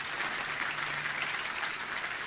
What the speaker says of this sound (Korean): 우리 박수로 한번 같이.